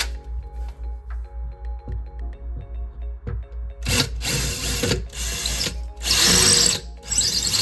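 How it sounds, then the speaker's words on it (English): A power drill bores holes into an interior house wall for a termite treatment. After a low mechanical hum, several loud, close drilling bursts follow, each lasting under a second, with short pauses between them. "now I'm gonna put this in the drill and then start making some holes"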